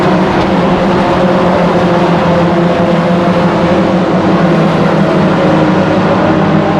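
Race cars of the Rebels Challenge series lapping Aldershot Raceway, a loud continuous roar of engines and tyre noise as cars pass and chase one another, with no talk over it.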